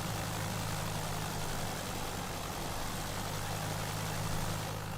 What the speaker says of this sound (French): le bruit que ça fait ces avions-là quand t'es en vue externe